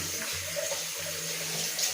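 Warm water runs steadily from a tap to rinse shaving cream off after a Gillette Mach 3 shave, a close, continuous splashing rush with no talking.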